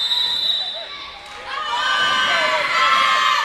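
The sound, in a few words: volleyball crowd cheering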